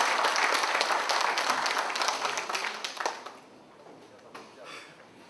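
Audience applause fills an event hall at a foundation's chapter founding ceremony, dense and steady for about three seconds before thinning to scattered claps and fading.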